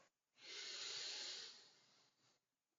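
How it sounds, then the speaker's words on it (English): A single drawn-out breathy snore-like hiss from a cat, about a second long, then fading into quiet. "that's just my cat trying to snore his way into sleep"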